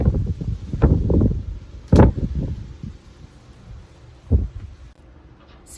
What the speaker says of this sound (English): I'm doing this outside and it's super windy.